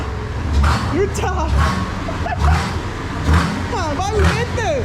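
A car engine with a 4-2-1 extractor exhaust revs up repeatedly in short pulses, loud and close, while people talk over it.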